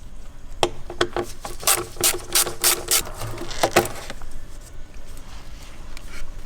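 A ratchet clicks in short rhythmic bursts while loosening bolts on the intake of a BMW N55 engine, close up and fairly loud, with a few scraping and clunking contacts between strokes and no talk.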